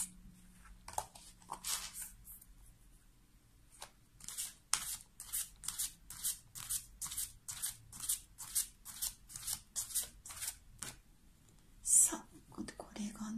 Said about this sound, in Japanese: 最後にアドバイスでカードをね、もう少し引いていきたいと思います